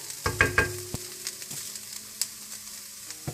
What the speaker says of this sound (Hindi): चिकन को मैंने अच्छी तरह से भून लिया